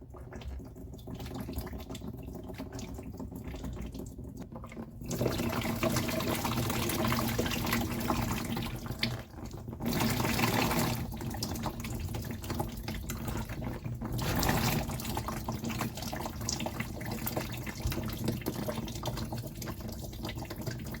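Water runs steadily out of a drained boiler-type water heater into a bucket during cleaning, a continuous splashing pour that swells louder in bursts around the middle and stays close and prominent throughout.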